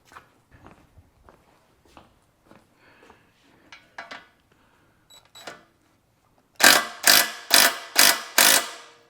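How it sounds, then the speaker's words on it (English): An electric wrench chases the oxygen sensor threads on a 1993 Ford F150, first some faint scattered tool clinks and handling, then five loud rattling ratchet bursts in quick succession close up; no one speaks. "Let's see if I can get a air wrench, electric wrench."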